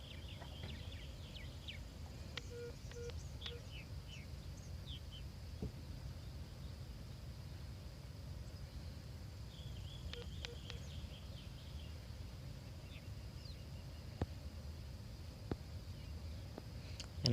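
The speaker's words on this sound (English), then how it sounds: "And lots of bird sounds" Birds chirp outdoors at sunrise in scattered thin calls and short trills, faint and distant over a steady low wind or ambient rumble, with a few sharper single notes near the end.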